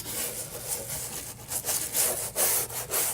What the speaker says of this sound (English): So just kind of scrub it a little bit.